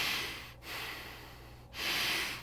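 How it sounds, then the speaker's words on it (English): Slow, deliberate nasal breathing close up, with a long airy exhale, a brief pause, another long breath, and a second pause before a third stronger breath. "You're now inhaling through the nose and exhaling through the nose"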